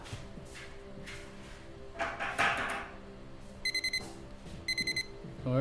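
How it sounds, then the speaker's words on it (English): Two short bursts of rapid electronic beeping, like an alarm clock, sound during a painting livestream, each a quick cluster of four high pips, over a low background hum and some handling noise. "Ignore that beep."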